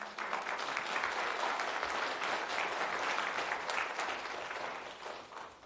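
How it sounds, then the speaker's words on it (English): Audience members at a county zoning board meeting applaud steadily and fairly loudly for several seconds, a dense clatter of many hands that tapers slightly at the end. "Everybody, please hold your applause."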